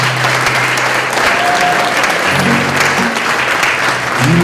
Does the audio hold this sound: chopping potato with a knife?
no